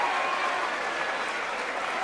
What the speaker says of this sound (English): And you hear the cheering in the background.